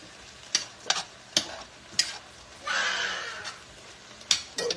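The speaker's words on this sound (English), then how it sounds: "So we just got to saute these now until they get soft." Vegetables for spaghetti sauce sauté in a pot, a soft sizzle running underneath sharp spoon clicks and taps against the pot at irregular intervals, with one brief louder burst of frying hiss midway.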